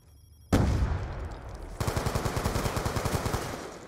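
A long, loud burst of automatic gunfire in a Call of Duty match, close and continuous, with the shots settling into a steady rapid rhythm partway through.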